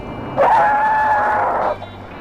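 A single loud, steady tire squeal lasting over a second as a car makes a full panic stop from 50 mph, then stops abruptly.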